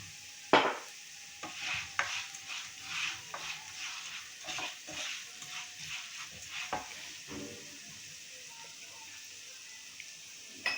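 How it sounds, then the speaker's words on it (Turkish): Rice toasting in a pan for pilaf, stirred with a utensil in a series of rhythmic scrapes and clinks over a light sizzle, close and moderately loud, with no talking. "pilavımız kavrulurken"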